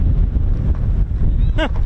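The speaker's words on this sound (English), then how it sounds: "another windy day here in the UK" Strong wind buffets the microphone at the RAF Holbeach air weapons range in the UK, a loud, low rumbling roar, and a brief high-pitched whine rises near the end.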